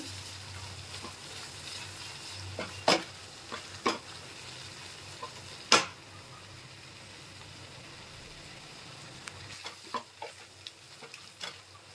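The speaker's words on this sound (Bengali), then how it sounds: "দেখুন পেঁয়াজটা কত সুন্দর ফ্রাই হয়ে গেছে" Onions and turmeric fry in a pan for a prawn bhuna curry, a soft steady sizzle broken by a few sharp clinks and scrapes of stirring.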